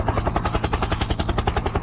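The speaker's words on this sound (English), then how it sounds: "helicopter, helicopter." A helicopter's rotor chops in a rapid, steady, evenly pulsing beat, loud and close throughout, with no voices.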